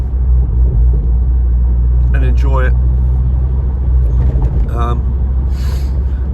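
A Ford Focus ST 225 engine drones loudly and steadily while accelerating from about 20 mph, with a deep low rumble, while a person talks over it in short phrases.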